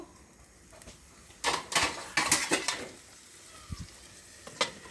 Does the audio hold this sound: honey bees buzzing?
no